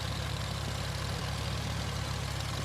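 A tractor engine idling steadily from inside the cab in Farming Simulator 19, a constant low droning rumble with no talking over it.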